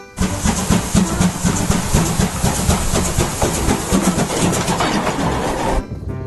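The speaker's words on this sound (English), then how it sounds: "This is a Thomas train." A Thomas toy train gives off loud, steady mechanical clattering and rhythmic clicking with a chugging, train-like effect, running continuously for about six seconds before it abruptly cuts off.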